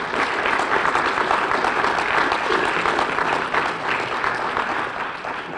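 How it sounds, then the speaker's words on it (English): Audience at a high school football awards ceremony applauding, a loud, dense, continuous clapping from a sizable crowd, sustained throughout. "And you can give a round of applause."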